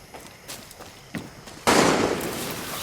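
Gunfire in the video game Far Cry 6, a few sharp distant pops early on followed by a louder sustained burst of shots that rings out toward the end.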